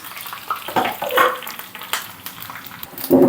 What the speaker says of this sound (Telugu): అన్నిటినీ ఈ విధంగా వేపుకోవాలి. మరి మాడనివ్వకండి.